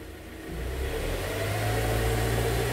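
A Kia Sorento engine fitted with an IBOOST throttle booster revs up from a low idle, its tone rising and holding at a higher steady pitch, close and fairly loud with no talk.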